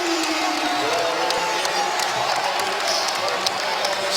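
A charged-up home crowd at a Boston College vs Duke college basketball game roars and cheers after a three-pointer, a sustained loud arena roar with scattered whoops, while a commentator talks over it.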